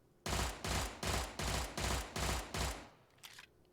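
Gunfire from a burst-fire pistol with a 20-round magazine in the video game Cordon: six loud, evenly spaced close shots in a steady rhythm, followed by a faint, brief echo-like tail.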